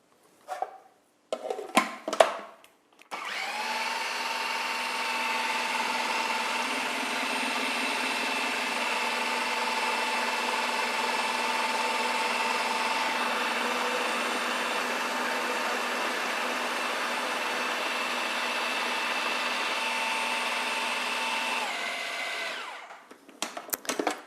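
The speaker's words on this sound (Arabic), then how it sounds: "ونزيد نطحن." An electric grinder blends a creamy food mixture, a steady, loud, even whir running for about twenty seconds, with brief clatter and handling noises just before it starts and as it stops.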